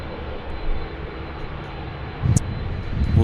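Airbus A330-200 airliner engines idling at holding point Bravo 1 at Sydney Airport, a steady distant rumbling roar that swells slightly toward the end.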